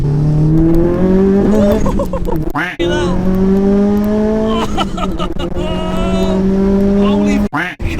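Rare 420 bhp fully built JDM Subaru WRX STI Hawkeye pulls hard along Welsh country lanes, its loud engine note climbing steadily through the revs with two brief breaks where gears change, close and continuous.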